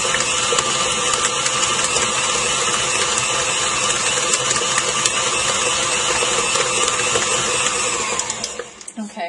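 Electric mixer beaters churning cream cheese for a cheesecake give a steady, loud mechanical whir that runs for about eight seconds before the motor cuts off and rattles to a stop.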